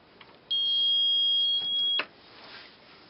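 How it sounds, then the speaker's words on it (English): An RFID relay module gives a single steady electronic confirmation beep lasting about a second and a half after programming a keychain tag, clear and close, followed by a short click in a quiet room. "The beep tells you, okay, it's been programmed."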